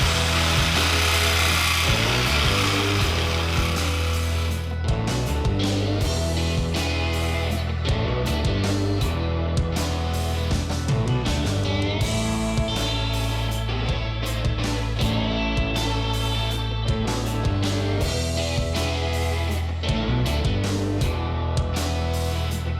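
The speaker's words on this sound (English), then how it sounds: "I'm going to start today by cutting this shock mount off and grinding these welds smooth." A power tool cuts a welded shock mount off a truck axle, then grinds the axle welds smooth, loud and continuous with repeated bursts of cutting and grinding.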